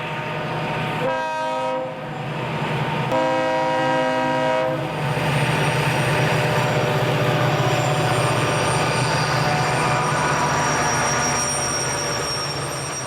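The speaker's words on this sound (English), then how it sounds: "an eastbound loaded coal train in the snow" An eastbound loaded B&O coal train rumbles past in the snow at Independence, West Virginia, with a loud, steady roar of engines and wheels while the air horn sounds in two long blasts.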